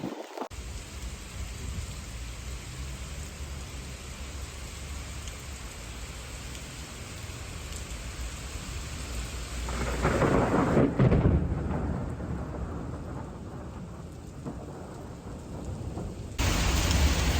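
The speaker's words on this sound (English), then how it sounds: "Most intense rain ever." Intense rain and thunderstorm over the Bay of Kotor in Montenegro, a heavy steady downpour hissing throughout with a deep thunder rumble swelling near the middle, loud and close, no voices.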